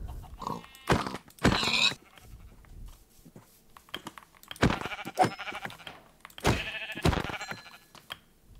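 Sheep bleat in a video game, with several distinct calls in short clusters and quiet gaps between them, fairly close and clear, and no talking.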